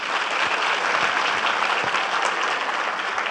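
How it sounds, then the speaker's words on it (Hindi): Dense, continuous audience applause for teachers at a school stage event, loud and even throughout with no break. "उन गुरु माओं के लिए प्लीज़ ताली बजाइए।"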